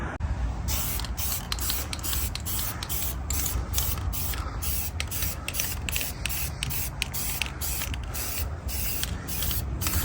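Plastidip being sprayed from an aerosol can onto Volkswagen Transporter T5 wheels, a close, loud continuous hiss broken by regular short pauses between passes, with no voices.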